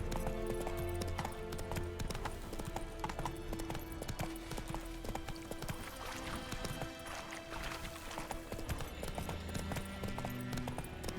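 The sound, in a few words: horse hooves trotting in video game Witcher 3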